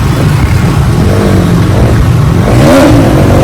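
A motorcycle engine revs hard as the rider pulls a wheelie, a loud, steady, close roar that climbs in pitch near the end.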